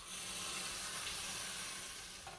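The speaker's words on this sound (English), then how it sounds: "put some cold water in there." Cold water poured into a pot of blanched samphire at an outdoor woodland camp: a brief steady rush of pouring water, close and fairly quiet, tapering off near the end.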